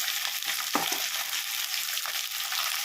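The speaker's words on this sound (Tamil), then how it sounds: "புளி எல்லாம் ஒன்றா போட்டு நம்ம வதக்கிடுவோம்" Tamarind and chopped chayote sautéing in a pan for a chutney, a steady broadband sizzle with a couple of brief scraping stirs, close and continuous with no voices.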